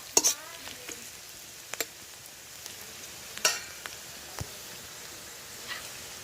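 Onions frying in a pan with turmeric added, giving a faint steady sizzle broken by a few sharp clinks and scrapes of stirring, with no talk.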